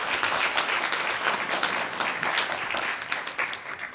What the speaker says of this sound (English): so if we could all just give him a round of applause